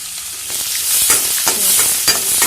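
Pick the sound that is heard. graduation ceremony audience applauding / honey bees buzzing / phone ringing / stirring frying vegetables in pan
stirring frying vegetables in pan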